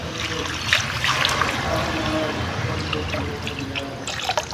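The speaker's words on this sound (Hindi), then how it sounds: "अब हम इसमें 1 किलो पानी ऐड करेंगे।" Water pours into a pot of spiced potatoes being cooked for dal, a continuous close trickling and splashing that fills the whole stretch.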